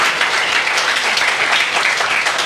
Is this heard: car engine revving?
no